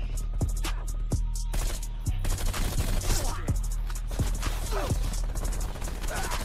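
Bullfrog submachine gun firing in Black Ops Cold War, rapid sharp bursts of automatic fire in several separate strings, loud and close, with game sounds around them and no voices.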